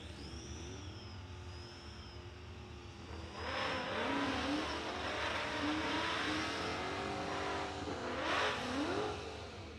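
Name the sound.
supercharged Ford Mustang drag racing launch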